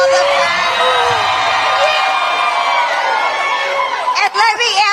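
A rally crowd cheers and whoops loudly and continuously, with shouts and scattered yells mixed in, growing choppier toward the end.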